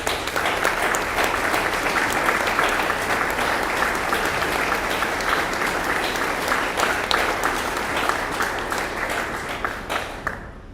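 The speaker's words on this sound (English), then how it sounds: "let's give them a round of applause" Steady applause from a sizable crowd at an awards banquet, clapping evenly for about ten seconds before tapering off at the end.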